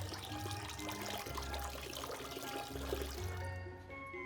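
A ball is lowered into a container of water, producing a continuous sloshing, trickling wash of displaced water, close and fairly loud over a few seconds.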